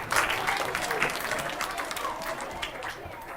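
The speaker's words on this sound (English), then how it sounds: "A round of applause for the 7s." An audience at a maths talk gives a round of applause to the children who identified as 7s, a moderate spread of clapping with a faint murmur of voices mixed in.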